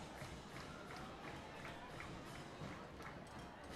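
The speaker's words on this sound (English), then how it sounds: "So the Centralia fans have something to cheer about." Centralia home crowd cheering at a high school football game against the Kahoks, a steady broad roar of voices and scattered clapping filling the stands, with some talk in the mix.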